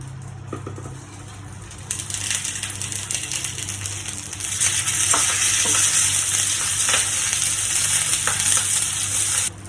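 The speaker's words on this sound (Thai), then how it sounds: "ใส่น้ำมันแล้วเอาปลาใส่ลงไปเลยค่ะ" Fermented fish frying in oil with a loud, continuous sizzle that swells after a few seconds, with occasional pops and a low hum underneath.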